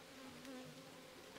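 Dense swarm of honeybees buzzing steadily around an open hive while honeycomb is cut out, with smoke drifting over them; the close, continuous drone holds without pause and no one speaks.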